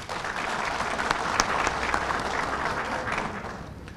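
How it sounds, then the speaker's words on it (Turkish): Steady, dense applause from an audience at a support ceremony for beekeepers in Siirt, a continuous wash of clapping holding even from start to finish. "Kendilerini yürekten tebrik ediyoruz ve alkışlıyoruz."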